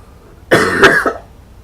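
A short, harsh coughing burst of two or three quick coughs from one man, close and loud, rising out of near silence and ending in a brief throat-clearing rasp.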